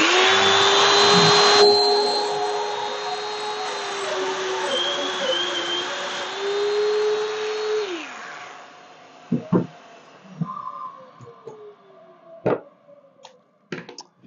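Festool Domino DF500 joiner cutting mortises into wood with a dust extractor attached, giving a loud steady whir with a rising plunge tone for about eight seconds, then quieter knocks and clatter as the tool is handled.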